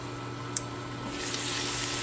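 A glass of water pours into pork cooking in a pan, a steady wet rush and hiss that swells and stays loud after the first second, with no voices.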